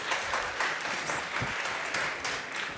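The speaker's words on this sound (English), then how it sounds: "That's nice to be clapped on." An audience at a Vogue fashion technology event applauds a speaker's arrival with sustained, even clapping that stays loud from start to finish, with no talk over it.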